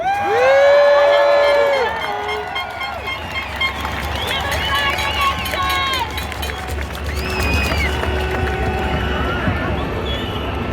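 Outdoor crowd at a Melbourne freedom rally, cheering and whooping loudly with shrill whistles and shouts layered over a steady roar that holds for several seconds.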